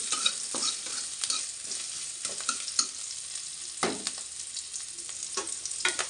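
Onion frying in white oil for chire polao, a bright crackling sizzle that runs throughout, with repeated stirring scrapes of a spoon in the pan.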